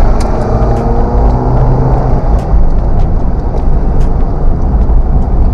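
Automatic car accelerating along a highway, a loud, continuous engine and road roar with steady rumble, heard from inside the vehicle.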